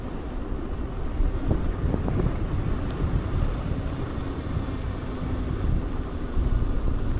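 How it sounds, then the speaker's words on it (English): Cold wind rushing past while riding a Bafang kit e-bike, a steady broadband roar buffeting the microphone for the whole stretch, with no talking. "There's that cold wind."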